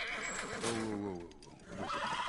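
A horse in The Last of Us gives a loud, close, wavering whinny that rises and falls, then fades into quiet background sound.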